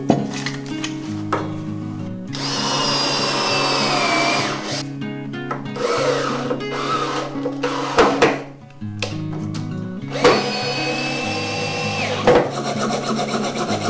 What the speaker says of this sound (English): each of the boards with the feet get a hole drilled for the pipe